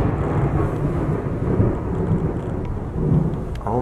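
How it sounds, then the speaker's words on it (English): Deep rolling thunder rumbles steadily with the hiss of rain, loud and continuous throughout. "How are we ever going to make it downstairs in such a storm?"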